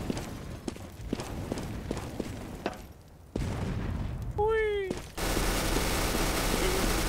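Gunfire in Counter-Strike: Global Offensive on the Nuketown map, a rhythmic series of evenly spaced, crisp shots at moderate loudness, then a break, a rising whistling tone and a burst of loud broadband noise.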